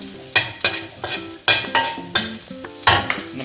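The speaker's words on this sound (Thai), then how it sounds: "น้ำมันร้อนแล้ว ผัดกระเทียมให้สุก" Garlic stir-frying in hot oil, reused from frying fish, with a series of rhythmic spatula scrapes and stirs against the pan over a steady sizzle, close and clear with no talk.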